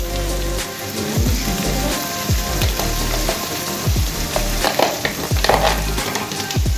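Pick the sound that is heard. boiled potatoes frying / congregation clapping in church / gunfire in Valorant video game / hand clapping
boiled potatoes frying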